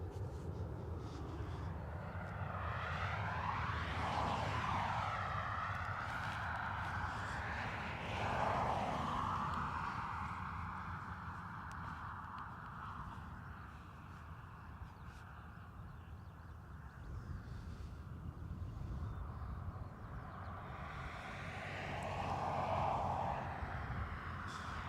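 An EasyJet airliner with orange engine nacelles at Dublin Airport gives off a steady, distant engine roar that swells and fades over the whole stretch, fairly faint and unbroken.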